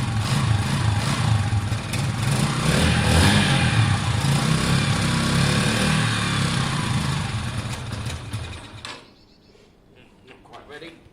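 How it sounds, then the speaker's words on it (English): A motorcycle engine, not yet warmed up, running steadily at a rough, uneven idle with the choke on for several seconds, then cutting down to a much quieter, sputtering level near the end. "Let's see if we can get it idling with the choke on."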